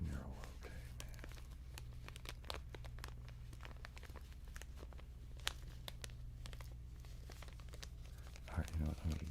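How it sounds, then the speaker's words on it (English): A crinkling prop is crumpled in the hands, giving a steady run of close, sharp crackles and rustles over a low constant hum, with a louder burst of crunching near the end. "Let's get a different crinkling device."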